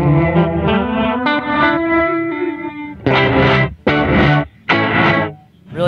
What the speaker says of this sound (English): Moving over to variation 2 is a reverse gated reverb,